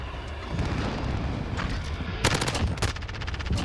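MP7 submachine gun fire in Call of Duty: Modern Warfare, a loud rapid burst with a second stuttering string of shots following, over steady game background noise.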